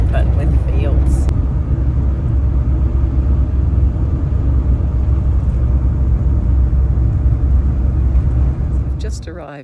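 A car cruising along the Bruxner Highway near Tenterfield in New South Wales, a loud, steady low road rumble and engine drone that fades slightly at the end.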